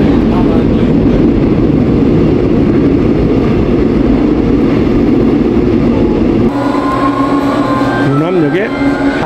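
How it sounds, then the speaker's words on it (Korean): A Busan Metro Line 2 subway train bound for Jangsan rumbles loudly and steadily at the Deokcheon Station platform. Near the end it shifts to a whining, tonal pitch with faint voices in the background. "장산행 열차."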